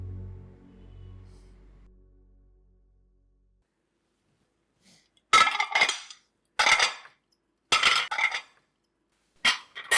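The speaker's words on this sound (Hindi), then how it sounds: "मेरे बेचारे बर्तनों पे क्यों गुस्सा उतार रही हो?" Pots and pans clatter and bang in bursts of metallic crashing, four sharp loud clusters in the second half after a low fading rumble and near silence, with no talking.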